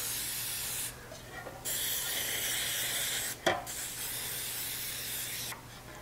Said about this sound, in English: I'm gonna be using some Baker's Joy because it's got the flour inside of the nonstick cooking spray.